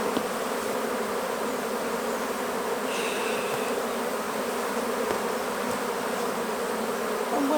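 Honeybees buzz around an open hive while a strong swarm is combined with a weak colony, making a dense, steady, close drone throughout with no talking.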